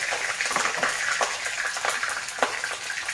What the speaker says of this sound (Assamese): এয়া আধা চামুচ নহৰু দি দিছোঁ তেলত